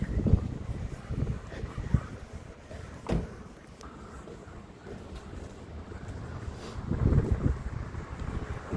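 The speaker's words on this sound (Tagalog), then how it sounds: "It's so windy." Gusty wind buffets the microphone with low rumbling bursts that rise and fall, strongest near the start and again toward the end, with no voices.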